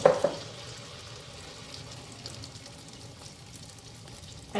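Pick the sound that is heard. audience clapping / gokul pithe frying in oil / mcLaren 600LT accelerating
gokul pithe frying in oil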